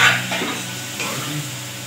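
Kalu maina fish frying and being stirred in a pan gives a steady close-up sizzle with a few soft scraping strokes over a brief moment.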